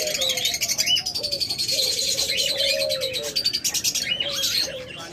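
Diamond doves sitting in a nest bowl coo in low repeated phrases, close by, while other small birds chirp and tweet steadily over them.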